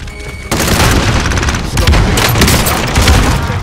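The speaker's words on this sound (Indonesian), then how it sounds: "Throwing grenade." Grenade blast and rapid gunfire in Call of Duty Warzone, a sudden loud burst after a quiet half-second, then dense, continuous shooting with heavy booms running to the end.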